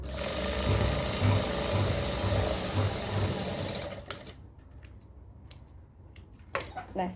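A domestic sewing machine stitching the armhole and shoulder of a sleeveless top, running in a steady loud whir for about four seconds, then stopping, followed by scattered handling clicks and fabric rustles.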